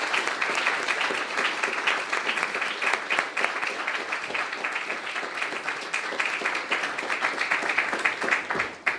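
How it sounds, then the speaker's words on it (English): An audience claps after a panel discussion on housing policy for an aging population, a dense, steady round of applause from many hands that holds for several seconds without talk. "I'm going to just ask for a speedy round of applause"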